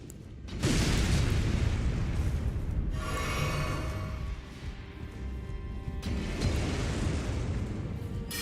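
Enemies blow up in the video game Elden Ring: a loud booming explosion erupts and rumbles on, followed by further blasts and crackling debris in a dense, continuous wash of noise.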